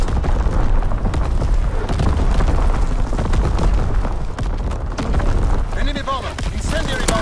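An artillery barrage in Call of Duty: WWII rumbles with loud, overlapping booms and blasts, mixed with gunfire and battlefield effects, while a game voice barks callouts.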